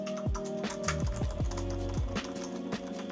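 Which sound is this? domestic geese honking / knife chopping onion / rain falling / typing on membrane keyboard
typing on membrane keyboard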